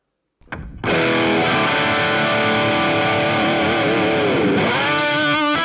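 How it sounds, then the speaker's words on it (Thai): A distorted Acacia Romulus Pro Series electric guitar rings out after a short pick attack, one thick sustained chord held loudly, with a slight bend near the end. "มาลองเสียงแตกกันเลยนะครับ"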